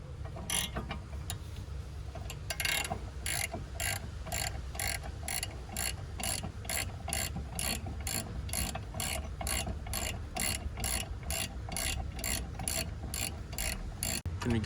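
A ratchet wrench loosens brake caliper screws on a 2016 Honda Civic EX, producing a long steady run of sharp, evenly spaced metallic clicks, close and loud, with no talking.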